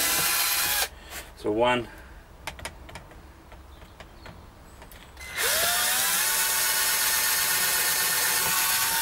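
A power drill drives screws into a board while building a solar oven, with a short whirring burst up close. A longer, steady high whine then starts and runs to the end, and a voice speaks briefly in between.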